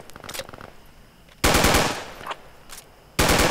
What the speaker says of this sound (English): I'm gonna shoot a grenade straight up and see what happens